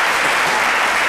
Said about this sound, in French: Zougueï, que je vous demande d'applaudir très fort.